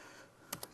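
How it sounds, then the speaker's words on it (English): Three quick keystrokes on a computer keyboard near the end, typing out Java code during an Android security walkthrough, faint and close with a quiet pause before them. "my typing is awful in the morning"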